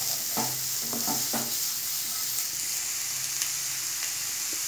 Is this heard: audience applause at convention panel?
no